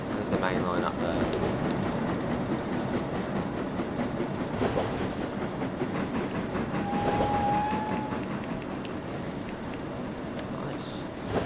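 Steady rumbling of a passing train in the Trainz railway game on the Scottish East Coast Main Line, continuous and fairly loud with a brief whistle-like tone, and someone speaking over it.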